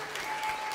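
Brief burst of audience applause for student players in a university jazz combo, steady broadband clapping of moderate level filling the short moment.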